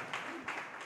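Church congregation at a JMCIM preaching service applauding loudly, a dense, steady wash of clapping from many hands with faint surges, heard alone.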